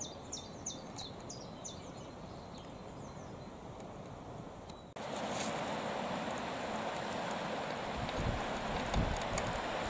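Soft, steady rushing of the River Spey near Fochabers, Scotland, heard from a distance, with a few bird chirps early on; the wash grows louder partway through.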